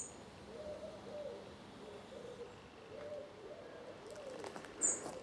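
Wood pigeons coo faintly in the distance in a Norfolk village, a soft repeated low hooting phrase over quiet outdoor ambience.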